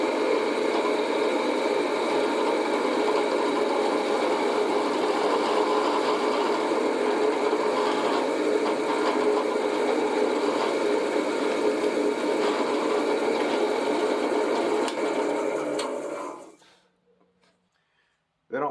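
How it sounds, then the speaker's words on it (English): A 1/4 inch bit bores into a wooden Windsor chair spindle held in a support collar, giving a steady, close whirring drone that runs evenly for about sixteen seconds before cutting off abruptly into near silence. "So I'm going with a 1/4 inch bit, and to hope to prevent from splitting this wood"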